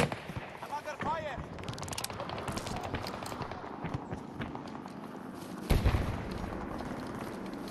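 Gunfire in the Battlefield 2042 video game during an online match, with dense rapid shots and a louder burst near the end, mixed with voices calling out throughout.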